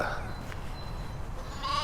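A lamb bleats, a short wavering call rising near the end over a steady rural background hum, heard alone without speech.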